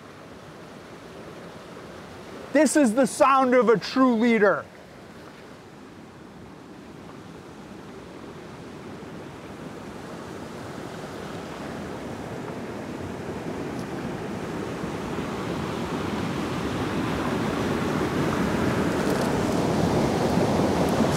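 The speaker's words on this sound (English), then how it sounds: "You hear this river?" A river's rushing water makes a steady broadband roar that grows gradually louder and fuller over about twenty seconds, with someone speaking briefly near the start.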